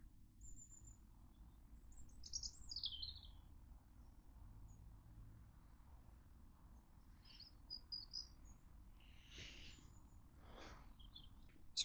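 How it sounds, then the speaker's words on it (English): Faint, scattered bird chirps and short calls ring out over a quiet low hum, with a few brief notes standing out. "At least here we'll get the sound of birdsong"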